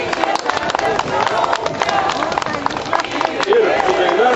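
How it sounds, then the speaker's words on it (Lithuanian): Dense, continuous applause from a crowd for the Joniškis group at a 2012 gathering of former deportees in Ariogala, steady clapping throughout with voices mixed in. "Plojimai Joniškiui."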